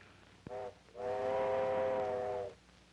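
An arriving steam train in an old Western setting sounds its whistle: a brief toot, then a long, steady, harmonic-rich blast over quiet background rumble.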